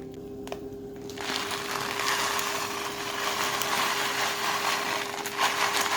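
Small bananas are crushed with a manual potato masher, producing a steady, squishy grinding and scraping noise that starts after a brief quiet moment and continues throughout at a fairly close, moderate level.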